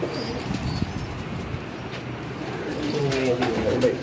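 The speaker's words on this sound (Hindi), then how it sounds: "ये कबूतर है और ये इसकी फीमेल है।" Pigeons, a male and female pair, coo and flap their wings nearby, with soft rustling and bursts of wingbeats rising toward the end over a steady background.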